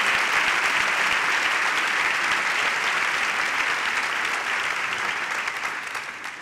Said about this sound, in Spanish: Un aplaudiment també perquè vam estar a Madrid